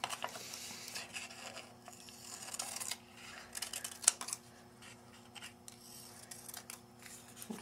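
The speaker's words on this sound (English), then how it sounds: "So if you cut them apart real quickly." Scissors snip paper pieces apart close by, producing quiet, irregular cuts and rustling with one sharper click near the middle, and no talk.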